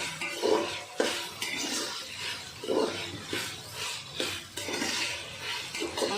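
A spoon stirs vegetable curry in a metal pot, scraping and clinking against the sides in irregular strokes with faint sizzling underneath, close and fairly quiet.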